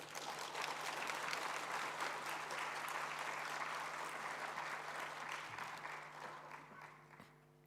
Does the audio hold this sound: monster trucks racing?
no